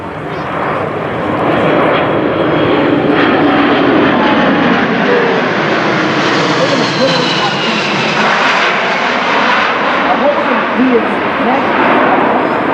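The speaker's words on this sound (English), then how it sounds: "From the left, the Globemaster 3." A Boeing C-17 Globemaster III flies past at an air show, its engines a loud, steady, broad roar that swells and holds throughout, with an announcer's voice faintly under the noise.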